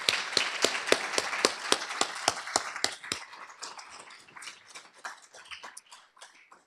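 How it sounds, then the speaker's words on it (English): Audience applause following a keynote conversation, heard as a steady run of sharp individual claps that is loud at first and then thins and fades toward the end. "So please join me in applauding the work of my colleagues."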